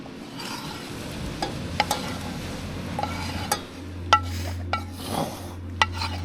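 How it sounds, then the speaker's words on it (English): Food bubbles and sizzles quietly in a pot at a remote beach campsite while a utensil stirs and scrapes, with occasional soft clinks against the pan. "Mix all that in. And that's just going to sit there and simmer"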